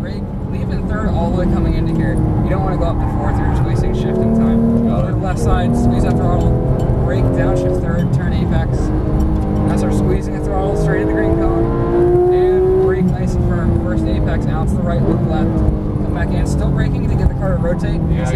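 Heard from inside, a Porsche 991 GT3 race car at Exotics Racing in Fontana, California, drones loudly as it accelerates on track, its engine pitch rising and falling through gears while people talk over it.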